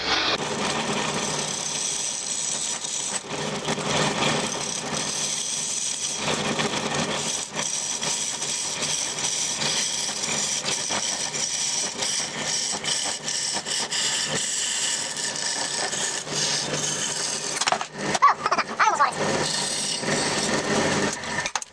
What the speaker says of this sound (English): I want to stop drilling.